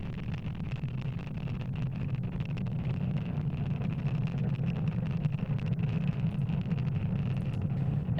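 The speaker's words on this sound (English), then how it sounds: "And with that successful liftoff of our Starlink satellites on our Falcon 9 vehicle" A SpaceX Falcon 9 rocket carrying Starlink satellites lifts off, heard as a steady, loud, broadband roar with a deep low rumble that holds constant throughout, buffeted by wind noise and with no voices.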